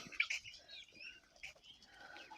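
Ducks, guinea fowl and chickens eating barley in a farmyard in the evening, with faint scattered chirps and calls over soft pecking and rustling, quiet and somewhat distant.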